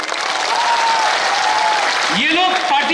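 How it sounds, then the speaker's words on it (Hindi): A crowd at a political rally claps in loud, dense applause that holds steady, with a voice briefly rising over it near the end. "ताली दीजिए इनको।"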